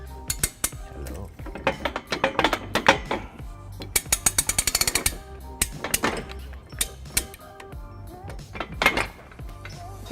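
Ratchet with a 3/4 inch socket snugging trailer hitch hardware on a 2003 Chevrolet Impala, loud close metallic clicking in rapid bursts, with clanks and clinks of the tool between strokes.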